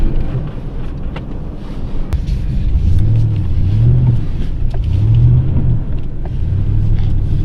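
A Ford truck stuck in a ditch, its engine droning low and steady with rising and falling rev surges throughout, roughly rumbling under wind noise, with no talk.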